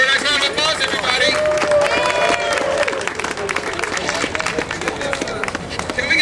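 An audience at a skating rink press conference applauds in a dense, loud wash of clapping and crowd noise that fills the whole stretch, with music and babble mixed underneath.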